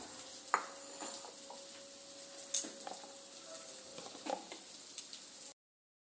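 Eggs for butter eggs frying gently in a pan, a quiet steady sizzle with scattered small pops and taps from stirring, ending abruptly.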